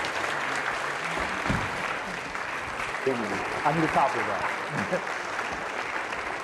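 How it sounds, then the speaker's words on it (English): Lecture-hall audience applause rises as a dense, steady clatter of many hands, while a speaker's voice talks into it toward the end. "We don't have time for applause."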